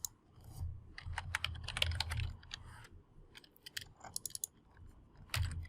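Quick bursts of clicky computer keyboard typing while XSLT is edited, irregular runs of close keystrokes broken by short pauses, with no talking.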